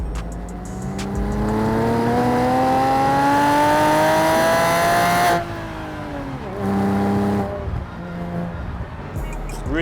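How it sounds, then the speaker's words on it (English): A Land Rover Defender 110 with an aftermarket Miltech exhaust revs hard and climbs in pitch, drops off and then revs again, loud and close throughout with no speech over it. "It sounds awesome with that Miltech exhaust."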